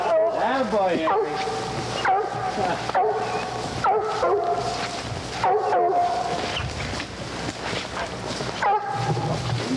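A hunting dog trees a squirrel in the woods, giving repeated close barks, yips and whining yelps in an uneven rhythm of about one burst per second.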